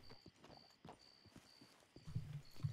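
Horse hooves clip-clop steadily in Red Dead Redemption 2, a soft rhythmic patter of game footfalls that grows slightly louder and heavier toward the end, with no talking.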